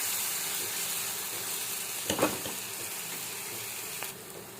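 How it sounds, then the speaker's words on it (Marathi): Onions fry in a pan while being stirred, giving a steady close sizzle with a burst of scraping at about two seconds and a smaller one near the end. "कांद्याचा रंग सोनेरी होईपर्यंत याला हलवत राहायचं."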